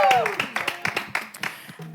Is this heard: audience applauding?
yes